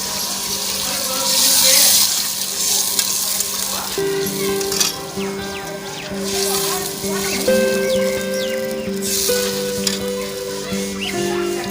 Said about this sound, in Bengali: পরিমাণ মতো জল